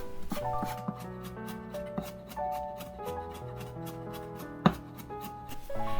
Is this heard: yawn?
no